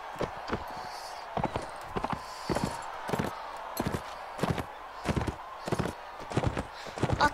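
Horse hooves clip-clop in a Mount & Blade: Warband battle game, a steady galloping rhythm of sharp repeated hoofbeats close up over a continuous background din.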